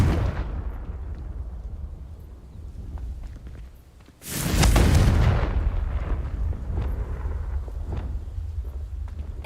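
A Confringo fire spell cast in Hogwarts Legacy bursts into a loud, close explosion with a sharp onset and a long rumbling tail that stays heavy for several seconds over a low ambient bed.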